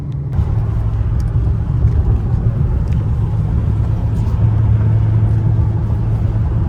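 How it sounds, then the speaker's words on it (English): A Dodge Hellcat Redeye with a titanium exhaust idles while warming up, giving a loud, steady, deep rumble close by. "I'm gonna warm up my car a little bit more"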